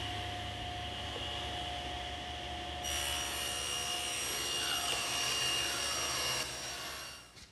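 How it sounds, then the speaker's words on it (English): Table saw ripping a strip of wood while building a bookcase: a loud, steady motor whine, then the blade biting into the wood with a harsher rising cut before spinning down, with no talk. "now I'm going to rip it on the table saw"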